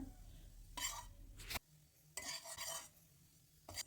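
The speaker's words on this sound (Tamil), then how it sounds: "இப்போ நம்ம துருவி வச்சிருந்த கொப்பரியை கொஞ்சம் ஃப்ரை பண்ணிக்கோங்க" Grated dried coconut (copra) being stirred and fried in a pan, with three rough scraping bursts separated by quieter gaps and a faint sizzle underneath, close and moderately loud.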